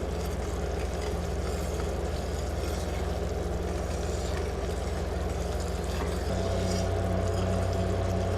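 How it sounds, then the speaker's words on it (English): An electric fan runs steadily in a kitchen during a batch of cinnamon rock candy, giving a constant wind-like whoosh with a low hum underneath that stays level throughout with no breaks. "I am going to have to turn my fan on."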